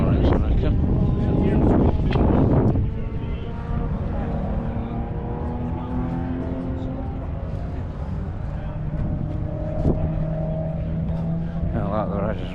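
A Subaru WRX engine rumbles steadily while queuing for a track-day sound check at Donington, a fairly close, continuous drone with a louder burst near the start and faint voices around.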